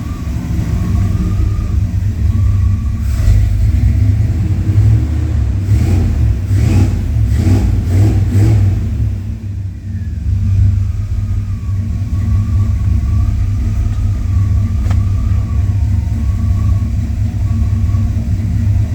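A Chevy OBS C1500 pickup with a throttle body injected engine idling rough and running rich, a loud, continuous, uneven rumble with faint lumpy surges, close to the microphone.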